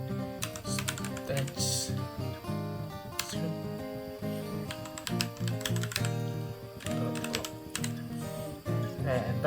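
Rapid keystrokes on a computer keyboard entering a cat command in a Linux terminal during a log-file lab, a busy run of taps over a steady, loud musical background.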